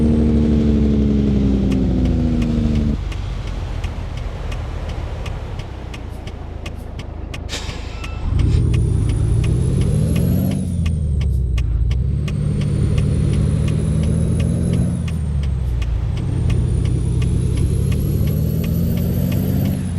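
A 665-horsepower Coronado truck engine in the video game American Truck Simulator roars loud and close, dropping to idle, then revving back up through several gear shifts with rising and falling pitch.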